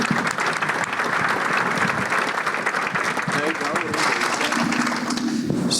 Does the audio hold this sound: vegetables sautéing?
no